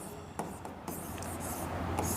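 Short scratchy strokes of writing on a board during an organic chemistry lesson, several quick marks in a row, close and faint with no talking.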